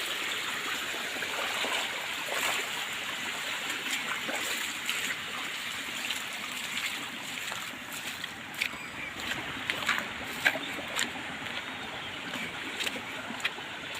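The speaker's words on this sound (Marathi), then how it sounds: "आणि ही व्हाळी व्हाळीत ना पाणी येत आहे बघा" A village stream flows softly and steadily, with faint trickles and small splashes rising here and there, heard at a distance without any talk.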